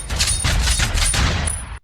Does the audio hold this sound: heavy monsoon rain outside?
no